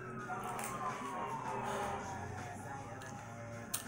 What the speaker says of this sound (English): Y'all excuse the sirens in the background